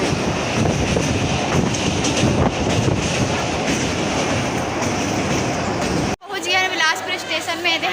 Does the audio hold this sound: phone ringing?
no